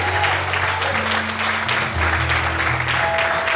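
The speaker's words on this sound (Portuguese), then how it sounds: "dá glória e aplauda o Senhor em forte" A church congregation claps loudly for the Lord during a Portuguese-language sermon, a dense, continuous burst of hands over shifting low organ or keyboard notes.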